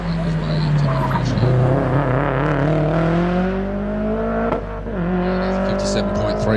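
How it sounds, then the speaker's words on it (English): A 2001 bug-eye Subaru WRX nears the finish line of a lakeside hillclimb, its engine note holding steady and rising slightly under continuous commentary, loud and close throughout. "the later model WRX, the bug-eye version of 2001, it's now making his way into the finish"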